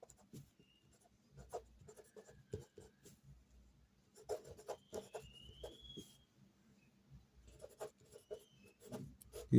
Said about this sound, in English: Let's first write the equation down.